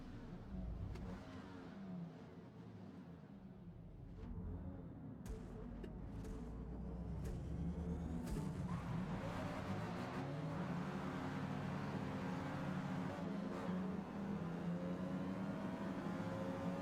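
A race car engine in Forza Motorsport revs hard and steadily throughout, loud and continuous, with rising and falling pitch as it accelerates through gears and no talking.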